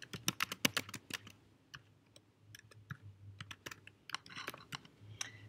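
Quiet, rapid keystrokes on a computer keyboard while entering note text, coming in irregular bursts of clicks with short pauses, close and alone.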